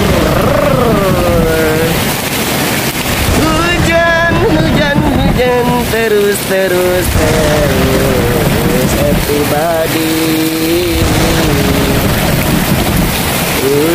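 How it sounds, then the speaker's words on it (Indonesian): Heavy rain pours steadily in a loud, constant wash in Bogor, while a voice speaks briefly over it and tonal, warbling sounds rise and fall across the downpour. "hujan terus di Bogor"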